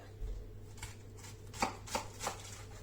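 A knife slicing an endive in half on a cutting board, a few short crisp cuts landing roughly once every third of a second, close and fairly quiet.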